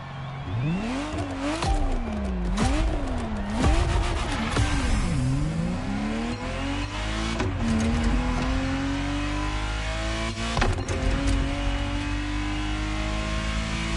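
A Ferrari Testarossa in the racing video game The Crew Motorfest, its engine revving up and down repeatedly with rising and falling pitch, then holding a steady drone at speed, loud and continuous with brief tire squeals.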